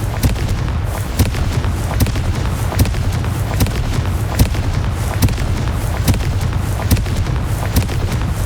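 Repeated blast spell explosions in the video game Hogwarts Legacy, a regular series of sharp booms roughly every second over a steady low rumble, loud and close.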